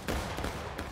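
A volley of muskets fired together at a historical reenactment, a loud ragged burst of shots under one second, with a couple of further cracks trailing right after.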